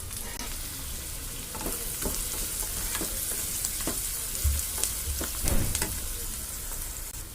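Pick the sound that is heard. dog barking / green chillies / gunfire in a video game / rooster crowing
green chillies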